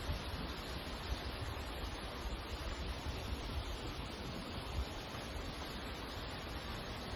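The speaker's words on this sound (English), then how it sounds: "there's a waterfall behind me." A waterfall in a brook hollow sends up a steady, dense rush of falling water that holds constant throughout, with no talking.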